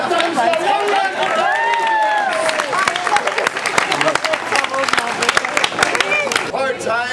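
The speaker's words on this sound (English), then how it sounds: "applause" An audience at a stage show in 2007 gives a round of applause: crowd voices and cheering up front, then dense, loud clapping that swells and carries through to the end.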